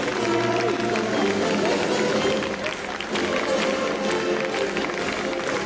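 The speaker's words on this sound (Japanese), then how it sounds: "会場の皆様、大きな拍手でお送りください" Applause from the crowd as athletes leave the floor at a high school girls' team judo medal ceremony, a steady dense wash lasting throughout with a brief dip midway, with an announcer's voice over it.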